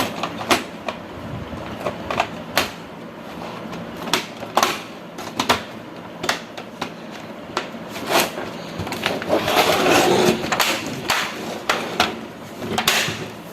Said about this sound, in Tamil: இப்போ நம்ம பேக் கவர் வச்சு மூடிடலாம்